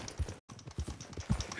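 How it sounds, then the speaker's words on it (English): Horse hooves in the Red Dead Redemption video game, a quiet, irregular clip-clop of steps with a brief dropout partway through. "Right, let's take the horse back."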